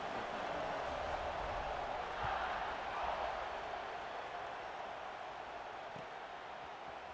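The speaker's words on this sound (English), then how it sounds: "this crowd is buzzing after that last score" Broad, steady crowd buzz fills a stadium in the EA Sports College Football 26 video game after a score, a continuous, moderately distant roar that slowly eases toward the end with no clear talk over it.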